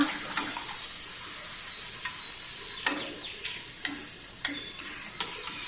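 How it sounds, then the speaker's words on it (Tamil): A spoon stirs turmeric and spices into tamarind paste in a hot pan for puliyodharai, making a soft bubbling sizzle. Irregular light scraping clicks of the spoon against the pan sound close by. "எல்லாத்தையும் நல்லா கலந்து விட்டுக்கோங்க."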